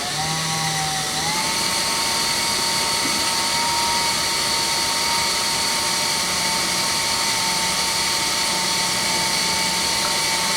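A handheld power drill runs steadily while drilling out a broken bolt, a constant loud mechanical whine that dips in pitch early on and then holds an even drone close by.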